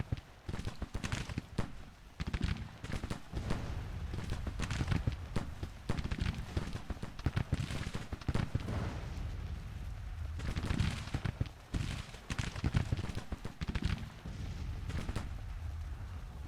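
Distant Civil War battle in Grand Tactician: The Civil War, with a steady patter of musket fire and occasional artillery thumps rolling on continuously at low level.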